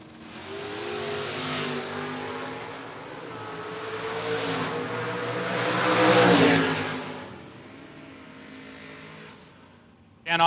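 Drag race cars, including a Pontiac, launching in a door-car event, with a rising engine roar that swells to a loud peak mid-way, then fades before a sudden burst at the end.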